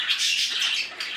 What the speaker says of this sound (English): there's my rosy Bourke